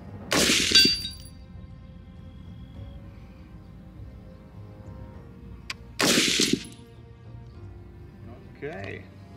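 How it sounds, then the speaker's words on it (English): Two sharp, loud rifle shots from a .300 Blackout AR-15 fired from a prone position at targets downrange, spaced about five seconds apart, each cracking and then ringing out over quiet outdoor air. "We're gonna lay down here and shoot a few targets down there."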